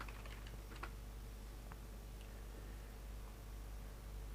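A search word is typed on a computer keyboard as a few soft, scattered key clicks over a quiet background hiss, faint and close, with no speech.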